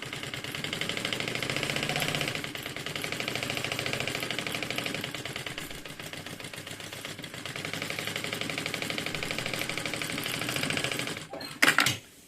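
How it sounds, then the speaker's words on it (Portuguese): A sewing machine stitches close along the edge of a mesh pocket on a handmade bag, running in a steady, continuous whir that holds for about eleven seconds before stopping with a short burst of clatter near the end. "E agora eu vou fazer uma costura bem na beiradinha, só pra segurar essa tela no lugar."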